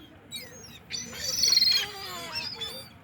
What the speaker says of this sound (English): Santa Claus feeding the birds